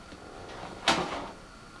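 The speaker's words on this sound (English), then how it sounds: "When we remove the left side panel" The left side panel of an NZXT H2 silent midtower case, lined with sound-dampening foam, is pulled off in one short scraping, sliding thump heard up close in a quiet room.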